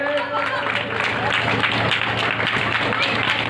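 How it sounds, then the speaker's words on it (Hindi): Crowd at a Shiv temple gathering clapping in a sustained round of applause, dense and fairly loud throughout, with a voice and background chatter mixed in. "एक जोरदार तालियां हो जाए"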